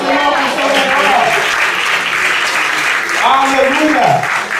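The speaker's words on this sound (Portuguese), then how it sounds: "aplauda o Senhor com seu melhor" A church congregation claps loudly and steadily throughout, sustained applause with voices and singing mixed in.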